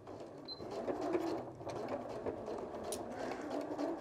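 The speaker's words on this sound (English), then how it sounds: "And sew right off the edge of our dart." A Janome sewing machine stitches off the end of a double-pointed dart in fabric, a steady, fairly quiet mechanical whir with a soft rapid rhythm running throughout.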